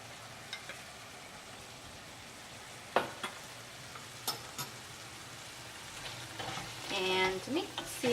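Potato starch slurry being stirred into jjajangmyeon black bean sauce in a hot pan, with soft scraping and stirring strokes over a low sizzle, a couple of sharper clinks along the way and a busier spell of mixing near the end.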